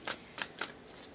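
A deck of tarot cards is shuffled in three quick riffling bursts, close and fairly soft, then a fainter fourth rustle, with no voices.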